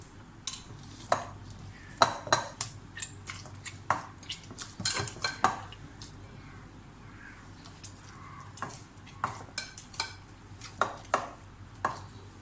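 Flour dough with a little added oil worked in a bowl for a breakfast poori paratha, heard as a string of sharp clinks and scrapes of utensil against the bowl with softer mixing in between, close and moderately loud, with no talking.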